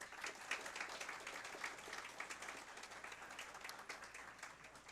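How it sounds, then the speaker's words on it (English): Faint, distant applause at a Canine Companions graduation ceremony for puppy raisers, a soft continuous patter of many hands with small swells, heard from far back in the hall. "Please give a big round of applause to those puppy raisers once again"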